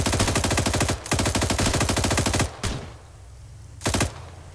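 Automatic gunfire in the military game Arma 3, two long rapid bursts of close, loud shots followed by a few single sharp cracks with short gaps between.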